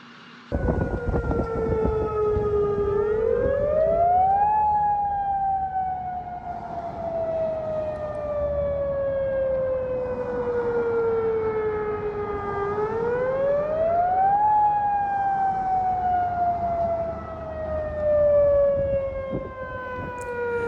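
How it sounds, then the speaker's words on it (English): A tsunami warning civil defense siren wails outdoors, rising and slowly falling in two long sweeping cycles. It sounds loud and continuous, with no talk over it. "Attention. A tsunami warning has been issued for this area."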